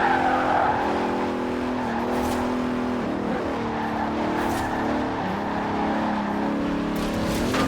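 Deep, bassy engine note of a Bentley Continental in Forza Horizon 4, droning steadily and loud. Its pitch dips at gear changes around the third and fifth seconds, with a touch of tire noise.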